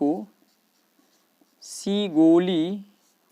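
Chalk or marker tapping faintly across a board during a physics lesson on Coulomb's law, a few sparse ticks in quiet before a teacher's voice resumes speaking.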